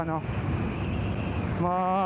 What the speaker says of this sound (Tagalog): Medyo malakas yung hangin pabalik.